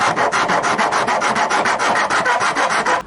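A file rasps back and forth across a truck bed rail cap in about fifteen even, rhythmic strokes, close and loud, before stopping abruptly.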